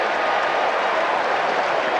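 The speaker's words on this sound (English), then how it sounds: "A portion of the crowd is doing that sing-song Dewey for Dwight" A baseball crowd at Game 6 of the 1986 World Series does a sing-song 'Dewey for Dwight' chant, heard as a dense, steady roar of many voices that holds evenly throughout with no single speaker standing out.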